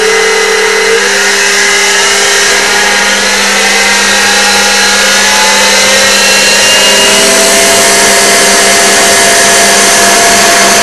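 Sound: X2 mini mill running in high belt range

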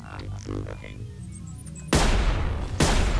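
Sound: rifle gunfire in the video game Sir, You Are Being Hunted

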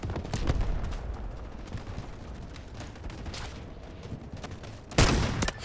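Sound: sniper rifle gunfire in the video game Delta Force

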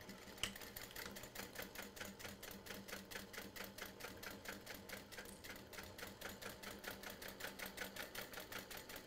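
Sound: sewing machine backstitching a seam

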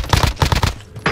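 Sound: gunfire in Call of Duty Warzone video game

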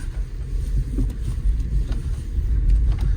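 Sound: car driving off

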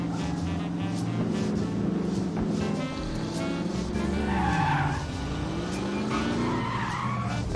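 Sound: car handbrake skid in video game The Saboteur

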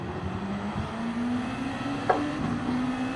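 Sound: Honda NSX race car engine in the video game Gran Turismo 7

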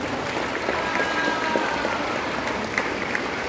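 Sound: audience applause at a Korean sword performance

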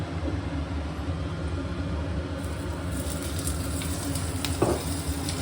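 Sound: garlic cloves and green chilies frying in oil

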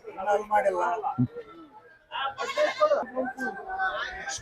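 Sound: sheep bleating at Chitradurga sheep market

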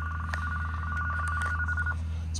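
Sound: hotel telephone ringer ringing

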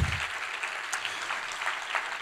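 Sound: applause

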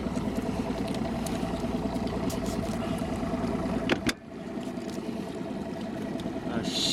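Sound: boat engine idling

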